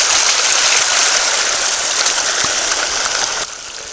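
Water streams across a hiking trail near Lena Lake, a steady broadband rush that stays loud and close throughout, then drops slightly in level near the end, with no talking.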